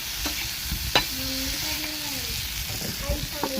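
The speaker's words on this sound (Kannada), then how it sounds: "ಎಣ್ಣೆ ಹಾಕಿ ಚಂದಾಗ ಈಗ ಟೊಮಾಟಿ ಮೆತ್ತಗಂಗೆ ಫ್ರೈ ಮಾಡಿ ನೋಡಿರಿ" Tomatoes fry in hot oil in a home kitchen pan, giving a steady close sizzle with scraping stirs and a few clinks from a utensil, plus faint tonal background sounds.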